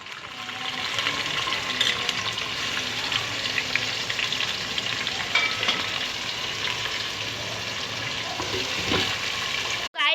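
Cumin and onions frying in hot oil for a dal gosht, a dense steady sizzle heard close, with a few faint clinks and scrapes and a brief knock at the very end.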